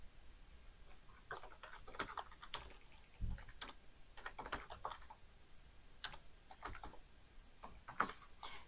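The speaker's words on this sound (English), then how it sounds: "I'm just going to type him into the lineup" Someone types on a computer keyboard to enter a player into a lineup for a 1972 Steelers vs Raiders APBA football game, with quiet, irregular bursts of key clicks and taps and no talking.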